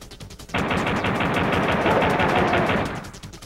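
Rapid gunfire from Duke's pistol in the Nintendo Duke Nukem video game, a fast unbroken burst of sharp shots lasting a few seconds at close range, then stopping, with no talking.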